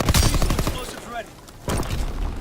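Gunfire and explosions from the Call of Duty WWII video game on Xbox One, with dense crackling bursts, a brief lull, then a loud renewed barrage, with game voices mixed in.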